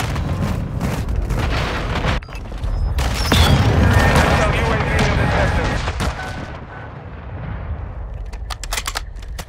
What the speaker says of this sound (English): Hostile cruise missile launch.